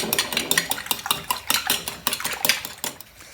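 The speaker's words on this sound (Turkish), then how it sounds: "Şimdi güzelce çırpıyorum yumurtalarımı" Four eggs whisked briskly in a wide bowl with a utensil, giving quick, rhythmic clinking and tapping strokes, close and alone.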